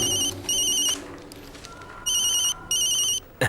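A phone rings with an incoming call, its electronic ringtone sounding in short repeated bursts of bright chiming tones separated by brief gaps, fairly close and clear, with no voices.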